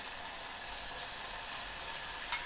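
Garlic and tomato frying in oil for a tamarind kulambu, giving a soft, steady, even sizzle that continues without a break, fairly quiet, with no talk over it.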